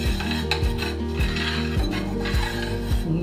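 A child stirs food in a cooking pot, a utensil scraping and knocking against the pot in a steady repeating rhythm, close and clear with no talk.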